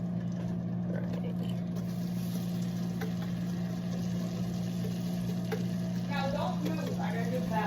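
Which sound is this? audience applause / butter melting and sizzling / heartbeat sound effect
butter melting and sizzling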